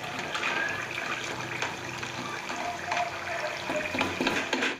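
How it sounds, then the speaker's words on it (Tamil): Rice murukku dough frying in hot oil, a steady bubbling sizzle with occasional stirring clinks and scrapes, close and continuous with no talking. "இப்போ எல்லா மாவையும் இதே மாதிரியே சுட்டு எடுத்துக்கலாம்"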